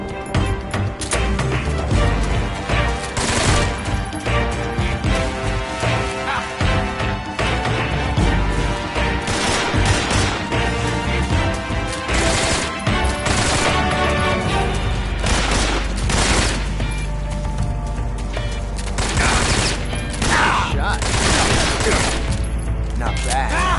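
Sustained gunfire and explosions from the stealth-action video game Metal Gear Solid 3: Snake Eater, loud rapid bursts of shots with booms and crashes filling the whole stretch, with brief game dialogue in between.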